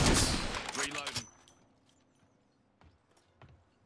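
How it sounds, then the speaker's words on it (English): A weapon reloading in a shooter video game: a loud burst of gunfire gives way to faint, sparse mechanical clicks and clacks, close and isolated against quiet. "Reloading."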